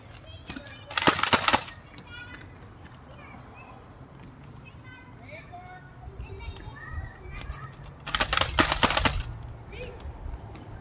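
A Nerf dinosaur blaster fires darts in two rapid bursts of sharp, close clatter, each lasting about a second, with quieter talking and background voices between them.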